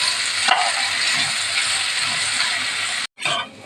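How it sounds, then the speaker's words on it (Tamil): Jackfruit pieces fry in a pan for jackfruit gravy, a steady loud sizzle with stirring scrapes running throughout, cut by a brief pause near the end before the sizzle resumes. "5 நிமிஷத்துக்கு பலாப்பழத்தை நல்லா போட்டு நல்லா வறுத்தெடுக்கணும்"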